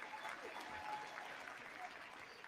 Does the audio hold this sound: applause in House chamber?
yes